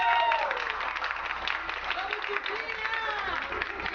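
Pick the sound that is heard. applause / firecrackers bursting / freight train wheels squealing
applause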